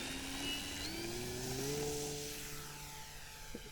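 An E-flite Super Timber RC airplane taking off in varying winds, its electric motor and propeller whining steadily and rising in pitch as it climbs away, loud and near throughout with no talk.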